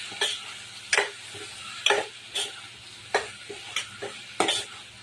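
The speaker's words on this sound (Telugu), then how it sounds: "ఇప్పుడు బాగా కలుపుకుందాము." A spoon stirs chutney with turmeric and salt in a pan, scraping and knocking in irregular strokes over a faint sizzle, close and clear with no talk.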